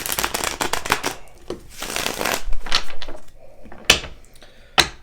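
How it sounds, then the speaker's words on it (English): A tarot deck being shuffled up close, with a long run of rapid riffling flutters, then a few sharp taps and snaps as the cards settle. "Let me give this deck just one more shuffle."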